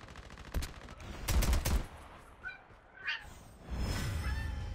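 Gunfire bursts in a battle royale video game: a few sharp shots early on, then a louder cluster of rapid shots at about a second and a half, followed by a rumble. No speech.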